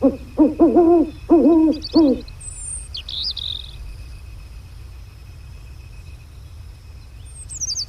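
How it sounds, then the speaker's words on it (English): Four quick hooting owl calls in a row from a turkey hunting video game, fairly close, followed by quiet outdoor ambience with a few faint high bird chirps. "let's do an owl hoot."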